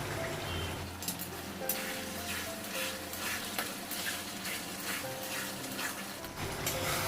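Mutton pieces being stir-fried in a pot for a Bengali goat curry, a steady close sizzle with scraping stirs and small splatters throughout, fairly quiet and with no talking.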